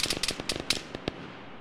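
Gunfire in the military shooter game Arma 3 during a night firefight: a quick, uneven burst of sharp cracking shots, fairly faint, then trailing off into a short fading echo.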